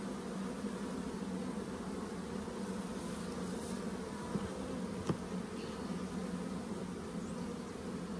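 Honey bees buzz in a steady, dense drone throughout while nucs are being made from stronger hives, a continuous close hum with a couple of brief knocks and no talk.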